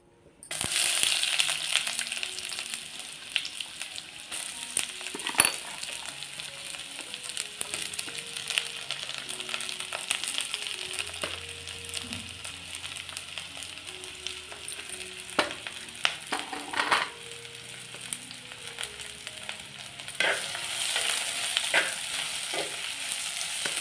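Onions frying in hot oil in a heated kadhai, with a steady sizzle and intermittent scraping stirs throughout, close and fairly loud, with no talk.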